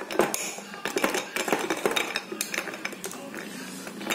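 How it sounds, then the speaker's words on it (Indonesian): A spoon clinks and scrapes against a glass while dalgona coffee foam is stirred into the drink, a busy run of close, irregular metallic taps and rattles with a faint voice now and then. "Kita aduk."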